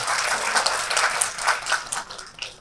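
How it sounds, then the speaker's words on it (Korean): A seated audience applauds at a forum on regional community prosperity and young local talent, a steady wash of many hands clapping that carries on for a few seconds with no voices over it. "다시 한번 박주희 사무총장님께 큰 박수 부탁드리겠습니다"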